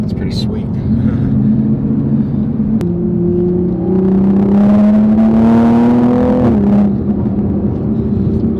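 A widebody MKV Toyota Supra with a JB4 boost tune accelerates through traffic, its engine note climbing steadily in pitch as it pulls through the gear, loud and close from inside the car.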